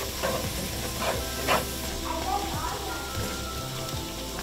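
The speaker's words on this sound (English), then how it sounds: "Then I'm gonna throw some onions in here." Onions are thrown into a pan of sizzling venison sauce made with butter and flour. A loud, continuous frying hiss fills the clip, with a few bursts of stirring and scraping near the start.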